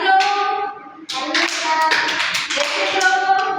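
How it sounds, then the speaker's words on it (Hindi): Children in a yoga session clap their hands in a series of sharp, close claps, mixed with loud voiced or sung tones that carry over most of the sequence. "ऐसे ताली बजाओ"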